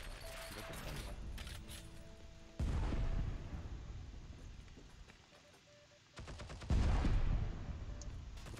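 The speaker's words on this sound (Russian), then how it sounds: "Выходит на префайре стреляет." Gunfire in an online shooter clan war comes as a few heavy bursts, some loud and close and others more distant, under team voice chat and game noise.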